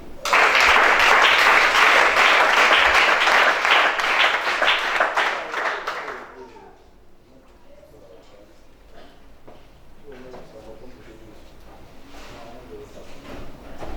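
A church congregation at a deliverance service breaks into loud, dense applause that fades after several seconds into quieter room noise with scattered movement and faint voices.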